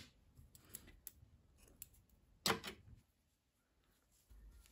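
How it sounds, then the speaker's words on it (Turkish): Scissors snipping green yarn during a crochet or knitting project, several light clicks followed by one sharp, close cut, then near silence. "Yeşil renkli ipliği kesiyorum."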